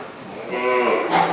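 A cow moos once in a drawn-out, rising then falling low call, close and clear at a cow shelter (gaushala), with no talk over it.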